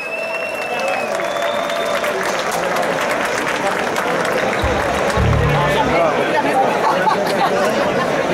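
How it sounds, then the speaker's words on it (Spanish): An outdoor rock festival crowd at Tajuña Rock applauds the organizers, steady clapping and cheering spread evenly throughout, with chatter and a few shouts mixed into the din. "aplauso para la organización"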